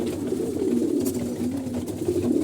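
Domestic pigeons cooing softly and steadily while being fed paddy grain, a low continuous murmur of several birds close by.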